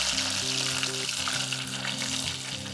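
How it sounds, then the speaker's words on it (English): Karaage chicken pieces bubble and crackle loudly in hot oil at 180 °C during the second fry, a close, continuous deep-frying sizzle with no talking. "Now put them back in the oil of 350 Fahrenheit or 180 Celsius for 1 minute."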